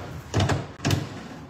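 A drawer in a pine dresser scraping roughly as it slides, two short grinding bursts close by, with no smooth glide and no talk.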